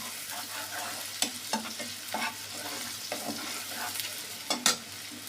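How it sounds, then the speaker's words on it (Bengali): Onions frying in a pan for an egg and potato curry, with a steady soft sizzle and repeated scraping strokes of a spatula stirring, close and alone with no talk. "কিছুটা সময় নেব পেঁয়াজটা ভাজার জন্য"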